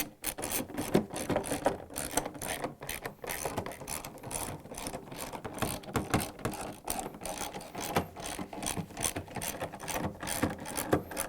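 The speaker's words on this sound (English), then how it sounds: "Alright, now we're gonna install all the screws" A ratchet tightens screws on the spider arm of a Samsung washer, giving repeated fast clicking bursts in uneven runs, close up and continuous.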